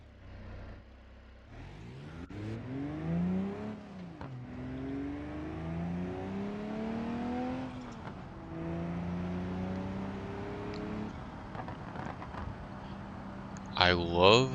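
Engine of a Mustang Dark Horse SC sports car in BeamNG.Drive revving up through repeated rising gear pulls, loud and close, with someone talking over it.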